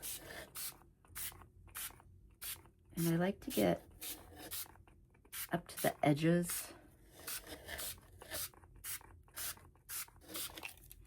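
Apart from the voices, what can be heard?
spraying liquid from a spray bottle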